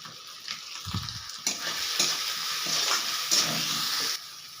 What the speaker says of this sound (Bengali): আবারও আমি ভালো করে ভেজে নেব।